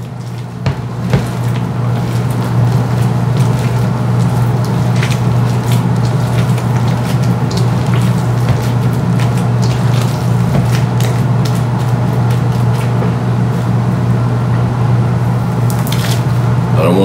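Beaten eggs are worked into a meatloaf mixture by hand, giving wet squishing and squelching sounds that repeat steadily, close and loud, over a constant low background hum.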